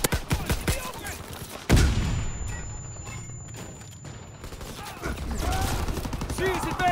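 Bursts of gunfire rattle in a Call of Duty: WWII multiplayer match, with rapid repeated shots at the start, a heavy blast, then scattered firing under shouted voices.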